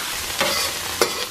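A burger steak frying in a hot pan, steady sizzling hiss with two brief louder bursts as it is stirred or moved, close and without speech.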